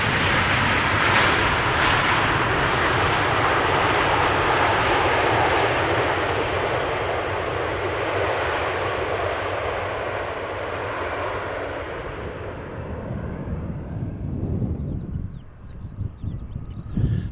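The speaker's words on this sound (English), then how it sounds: "KLM flight 644 arrived from New York JFK 777-200." A KLM Boeing 777-200 jet airliner arriving at Schiphol Airport from New York, its loud broad engine roar filling the scene steadily before fading, with wind buffeting the microphone near the end.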